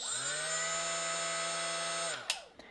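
A Milwaukee right angle die grinder whines steadily at its level 4 speed setting, 24,500 RPM, loud and close with a high tonal hum, then spins down abruptly, followed by a couple of faint clicks.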